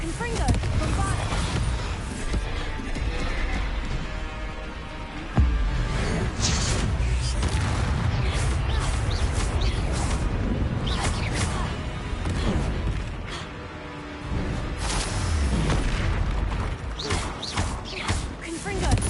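Magical Confringo and Bombarda spell blasts in Hogwarts Legacy burst amid clattering combat, with sharp explosive hits scattered through the fight while a voice shouts continuously over it.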